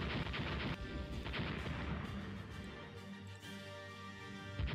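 A torpedo explosion in the naval game Rule The Waves, a dense rumbling blast with scattered booms and crashes over a sustained roar.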